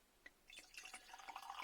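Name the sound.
Welsh Mountain cider being poured from a bottle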